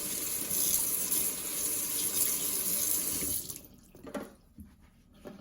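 A kitchen tap runs steadily while a new pizza dough roller is washed with soap. The water gushes close for about three and a half seconds, then stops, leaving a few drips and handling clatters.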